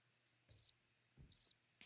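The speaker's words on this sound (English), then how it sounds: "you're going to hear a lot of crickets on your jokes" Cricket chirps from a soundboard sound effect play in two short, crisp bursts with a near-silent gap between, then a third burst begins at the very end; nothing else is heard.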